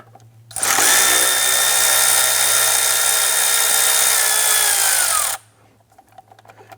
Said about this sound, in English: We're going to start by using our 10mm socket back on the throttle body here.